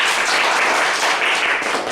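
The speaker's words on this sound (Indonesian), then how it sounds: "Tepuk tangan buat" Loud, close applause at a church youth service for two newly baptized members, a dense continuous wash of clapping throughout.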